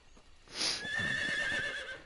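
A single horse whinny in the video game Metal Gear Solid Delta: Snake Eater rings out, loud and drawn out, fading into a lingering trill.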